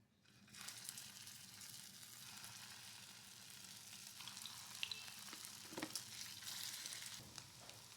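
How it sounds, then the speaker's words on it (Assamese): Chopped ingredients frying in ghee in a pan, a steady close sizzle that runs on without pause, with faint stirring scrapes now and then. "মই এইখিনি কাটি ল'লোঁ ধুনীয়া কৰি, এতিয়া ভাজি লৈ ল'ম।"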